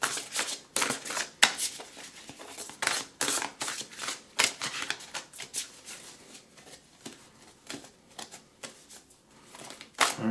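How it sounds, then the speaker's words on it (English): Tarot cards are shuffled by hand, close and fairly quiet, in rapid bursts of riffling and flicking with short pauses between, with no talk over them. "All right, we are shuffling."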